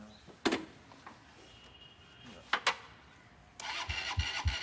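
A couple of sharp kick thumps, then a kick-started motorcycle engine catches on the second kick and settles into a low, uneven idle, fairly faint and distant.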